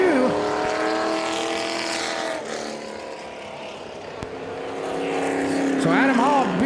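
Race trucks roar around the oval at Central Texas Speedway, their engine notes droning and shifting pitch as they pass, loud and close, with a commentator speaking over the racing.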